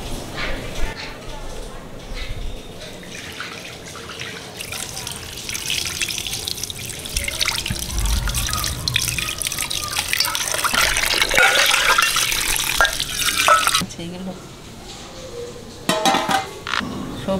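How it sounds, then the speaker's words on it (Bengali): Tap water splashes into a kitchen sink as a pomfret fish is washed, the stream swelling louder in the middle and then cutting off, with clinks of a pan and someone talking over it. "মাছটা ধুয়ে নিচ্ছি।"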